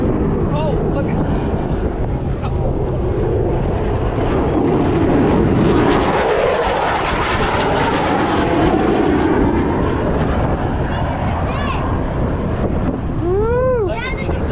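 Jet aircraft flying past at the Huntington Beach airshow, a broad rushing roar that swells and stays loud throughout, with wind buffeting the microphone and people talking excitedly over it.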